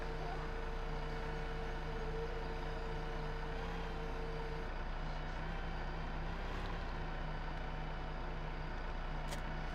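A truck in Farming Simulator 15 hums with a steady, droning engine tone throughout, with faint clicks and shifts in pitch partway through, and no one speaking over it.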